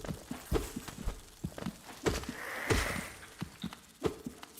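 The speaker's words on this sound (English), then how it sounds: "It's a heart beating." A heart beats in the game Hollow Knight, with soft, low thuds repeating in a steady double-pulse rhythm roughly every half second, moderately faint and alone without talk.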